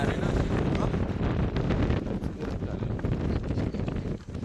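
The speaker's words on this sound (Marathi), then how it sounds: "क्लायमेट वारा सुटला आहे." Steady wind rushes and buffets the microphone throughout, loud and close, with faint talking underneath, on a trek up Asherigad fort.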